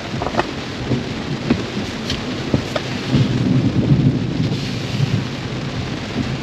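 Rain drums steadily on a parked car, a dense hiss with scattered sharp drop impacts and a swell of heavier rain midway.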